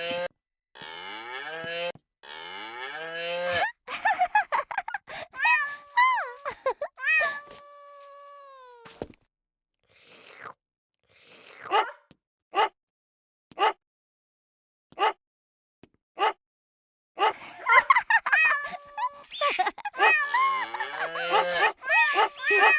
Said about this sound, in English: Every time Rosie pushes a key, the toy makes an animal sound.